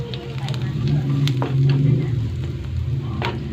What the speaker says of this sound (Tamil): நல்லா வெங்காயம் வந்து நல்லா வதங்கிடுச்சு.